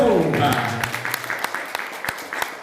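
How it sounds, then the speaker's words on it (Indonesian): An audience claps at a motivational training session, a brief burst of applause heard at close range with a voice speaking over it. "Tepuk tangan untuk semuanya."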